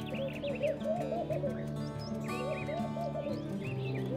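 A laughing dove, also called the palm dove, calls in an outdoor setting with soft, repeated bubbling coos, and other birds chirp in the background.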